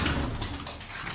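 Pigeons being handled give soft, close cooing calls over a rustling background.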